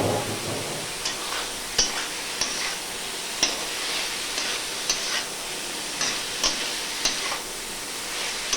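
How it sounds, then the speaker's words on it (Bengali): Boiled potatoes and cabbage sautéing in a pan, a steady sizzle with faint scraping and occasional sharp clinks of a spatula against the pan, roughly once a second, close and with no voices. "ভালো করে আমি কষে নিচ্ছি।"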